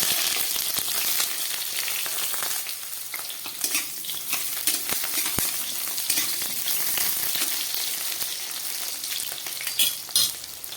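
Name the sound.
eggplant frying in oil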